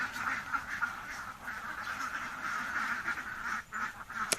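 A flock of egg-laying ducks quacks steadily and fairly close by while being herded across a rice field, a dense and continuous layer of overlapping calls.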